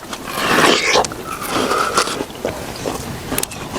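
Wet, crisp crunching and biting into watermelon close to the microphone, several chews in a row with brief pauses between them.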